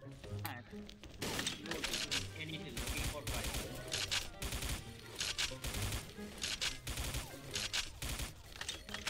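Dense, rapid gunfire in the shooting game XSHOT crackles and bursts throughout, loud and continuous, with a voice talking over the shots.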